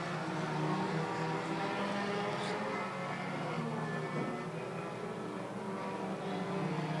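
Pure stock cars race at Hudson Speedway, a steady distant engine drone carrying across the track for the whole stretch, with no clear individual pass-bys.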